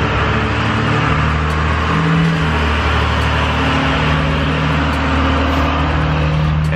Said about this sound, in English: Every single time, a loud truck, every single time.